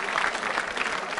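Applause from a quiz show audience for a contestant, dense clapping spread evenly through a short burst, fairly loud and close.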